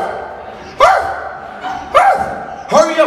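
A comedian's voice imitates a dog barking on stage, three loud, close bark-like yelps spaced about a second apart.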